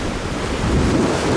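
Rough sea swell and strong wind buffet a sailboat at night in the winter Mediterranean, a dense, loud roar of waves and gusting wind noise filling the whole stretch.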